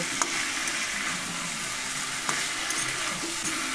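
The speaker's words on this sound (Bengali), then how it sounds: "ভেজে রাখা আলু ফুলকপি দিয়ে খুব ভালো করে নেড়ে নেব" Fried potato and cauliflower pieces are stirred into sizzling masala in a pan, with a steady close hiss and occasional light clicks of the spatula.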